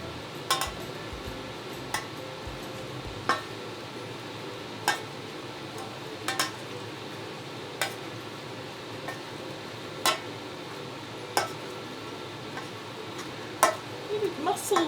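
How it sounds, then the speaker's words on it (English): Cooked, softened parsnips are mashed with butter in a pot, giving repeated soft squelching pushes punctuated by sharp clinks of the masher against the pan every second or two, fairly quiet and close. "Now that the parsnips are cooked and all softened, I'm going to add some butter to them and I'm going to mash them."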